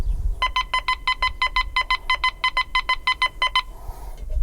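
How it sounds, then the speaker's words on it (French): Quest X5 metal detector sounding over a large silver coin, giving a rapid, evenly spaced run of about fourteen sharp, clear electronic beeps before falling silent. "l'appareil, il fait des bons sons, mais il fait aussi des mauvais sons"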